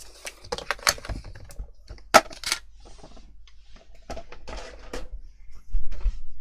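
A Fiskars bypass paper trimmer slicing paper for a mini album spine cover, with a few sharp clicks and a quick scraping cut nearby, plus light handling noises.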